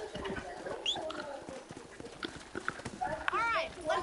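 Horse hooves clip-clop steadily in Red Dead Redemption, a close rhythmic trot with whinny-like calls and birds in the background, while a voice speaks over it.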